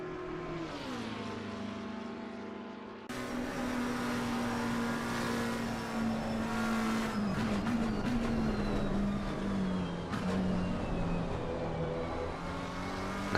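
Porsche GT2 race car in a racing game on the Nordschleife, its engine droning loud and steady at high revs with a sustained whine, a brief shift dip and shifting pitch as it pulls ahead.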